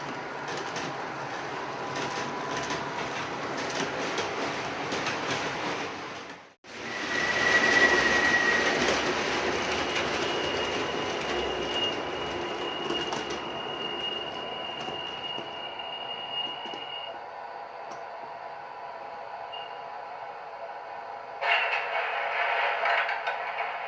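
An MTH Premier R32 D Train model subway set runs steadily, a continuous rolling rumble with a thin sustained squeal partway through, close and fairly loud. After a sudden brief dropout it resumes, with no talking.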